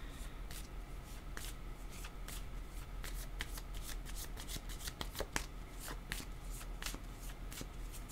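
Cards are shuffled for a card reading, a quiet, close run of crisp flicks and riffles repeating irregularly throughout, with no talk.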